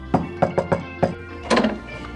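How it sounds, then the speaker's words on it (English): Knocks on a door: a quick series of close, hard raps, then a second, denser cluster of knocks. "there was a knock on the door"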